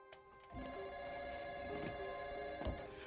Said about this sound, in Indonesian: suara telepon rumah John berdering